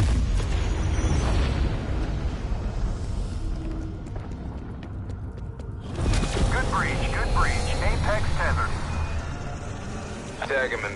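Weapon firing sequence in a zombies video game: loud cracking blasts and booms over a dense low rumble, a quieter pause, then renewed crackling with electronic chirps, alongside talk.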